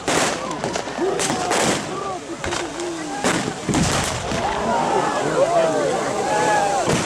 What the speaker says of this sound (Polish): Panterturm oddał strzał.